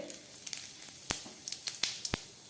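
Whole spices of cardamom, cinnamon, cloves and cumin crackle and sizzle in hot oil for a tempering in Bengali home cooking, giving a steady soft hiss broken by several sharp, close pops and spits, with no talking.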